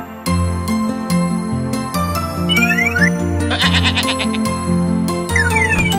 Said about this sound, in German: Eine Ziege.